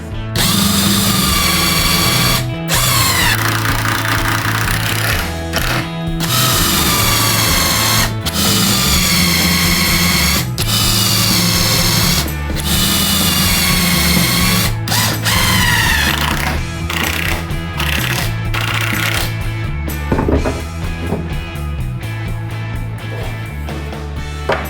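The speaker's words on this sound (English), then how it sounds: "I'm going to screw another batten like that against there" Heavy duty screws driven through a timber batten in a Mercedes Vario camper, a loud close power drill whirring in repeated bursts with brief pauses between screws and a ratcheting clutch near the end.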